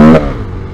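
A loud KTM 1290 Super Adventure S motorcycle engine roars close by in a short burst, then quickly drops away into a low fading rumble.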